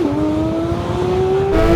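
A Porsche GT3 RS engine pulls hard under acceleration, its loud, steady tone climbing smoothly in pitch as it revs up from inside the car, with a slight shift in character near the end.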